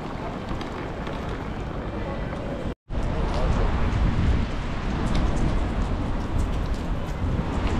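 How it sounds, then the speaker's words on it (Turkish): Heavy rain pours steadily onto a Glasgow street, a dense continuous hiss close by with a brief dropout near the three-second mark. "Bayağı yağmur yağıyor şu an."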